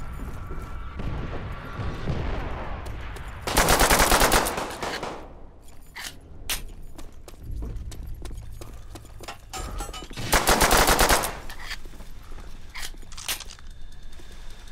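Rapid bursts of gunfire in the World at War video game, two loud dense volleys separated by sparser single shots and clatter, dense and close throughout.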